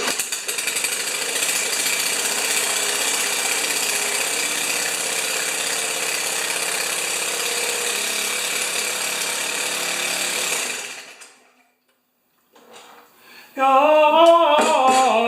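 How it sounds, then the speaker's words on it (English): An electric drill whines steadily at close range for about ten seconds while working on an old Briggs-powered MTD mower, then cuts out into silence before a brief burst of noise returns. "This drill is weaker than me. I can stop it."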